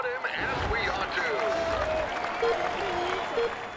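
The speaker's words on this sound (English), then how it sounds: "let's applaud him as we ought to" Steady crowd applause and cheering in the Tour de France 2020 cycling video game, greeting a rider before the crucial time trial on the race's final stages, a dense continuous wash of clapping throughout.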